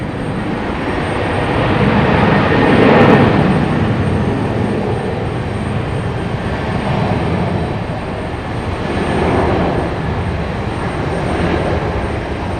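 An airliner, an A321, roars with thrust reversers held long during landing at Raleigh-Durham airport, a broad sustained rumble heard from a distance that swells and eases over several seconds.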